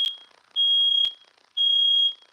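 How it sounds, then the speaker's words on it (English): A home smoke detector goes off with three loud, shrill electronic beeps, each lasting about half a second, sounding close and alone with no talk. "My alarm just went on."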